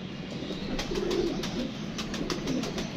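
Soft pigeon coos repeat a few times against a steady background of rustling and ambient noise, with faint clicks scattered throughout.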